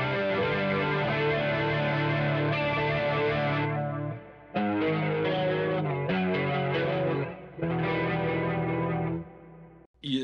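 Electric guitar run through a multi-modulation pedal set to tri-chorus, playing sustained, shimmering chords with brief pauses between phrases, loud and close with no talking.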